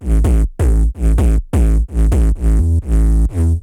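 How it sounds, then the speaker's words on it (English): Distorted synth bass processed with an Erosion distortion plugin in Ableton, playing loud, punchy rhythmic notes in short bursts with gaps between, its harmonically rich, crispy top end carrying high, with no talking. "As you can hear, it has a really crispy, distorted, nice top end."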